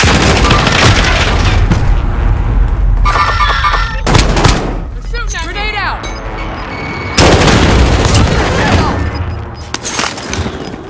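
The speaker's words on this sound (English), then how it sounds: "Taking fire!" Heavy gunfire in Call of Duty: Modern Warfare, loud bursts of shots and booming blasts filling most of the stretch, with shouted voices and radio chatter mixed in.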